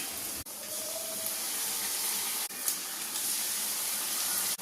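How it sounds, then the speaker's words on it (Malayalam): A batter-dipped piece of plantain fries in hot oil for pazham pori with sesame, giving a steady, close sizzling hiss that runs throughout with a few brief dips. "ഏത്തയ്ക്ക 1 പീസ് എടുത്ത് ഈ മാവിലേക്ക് മുക്കിയതിന് ശേഷം ഇത് എണ്ണയിലേക്ക് ഇട്ട് കൊടുക്കാം."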